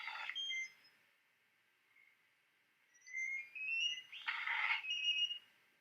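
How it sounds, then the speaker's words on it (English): A smart door lock gives electronic beeps as it unlocks, a short tone burst at the start, then a cluster of several chirping beeps with brief noisy bursts a few seconds later, fairly close and alone. "Unlocking a smart door."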